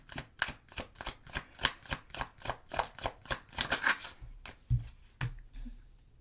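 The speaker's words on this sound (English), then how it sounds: "when I was shuffling the cards prior to your reading" Quiet, rhythmic riffle-and-tap of tarot cards being shuffled, a quick series of crisp bursts that slows and ends with a few soft knocks.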